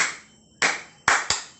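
Children clap out a rhythmic chant, three crisp, close claps with the last two in quick succession, separated by short quiet pauses.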